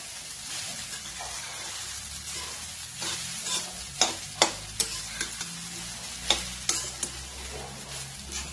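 Sabudana khichdi roasting in a pan, a soft continuous sizzle that picks up a run of sharp spatula clacks and scrapes in the second half, fairly quiet and without talk.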